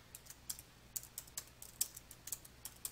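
Quick, light clicks of a computer keyboard as a job name is typed, a dozen or so close, crisp keystrokes in an uneven rhythm with no talking.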